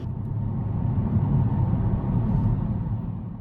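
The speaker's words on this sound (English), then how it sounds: "Tire noise is noticeable as they are extremely wide, but nothing that's not bearable." Steady low road rumble of tire and engine noise inside a 2020 Mercedes-AMG C63S Cabriolet on extremely wide tires with stiff suspension, a continuous close drone with no talk.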